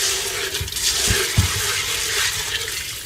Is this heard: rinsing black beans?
yes